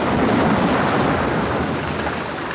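A thunderstorm recording from the Voyager Golden Record, a dense, continuous roar of rumbling noise with no distinct claps, steady and loud, fading slightly toward the end.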